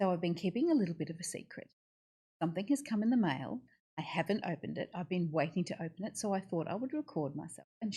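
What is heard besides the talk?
None of the usual background noises is heard.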